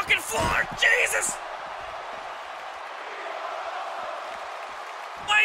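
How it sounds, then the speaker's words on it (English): Wrestling-event crowd chanting steadily in a large arena, a sustained roar of many voices holding for several seconds after a few sharp louder shouts at the start. "Why is the crowd chanting that they are awesome?"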